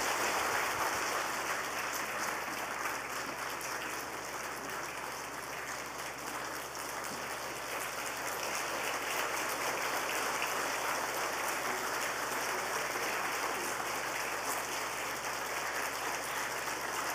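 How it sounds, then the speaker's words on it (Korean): A church congregation applauding during a Sunday service, a long, even wash of clapping that stays steady and moderately distant over a constant low hum. "우리 뜨거운 박수로 축하해 줄 때"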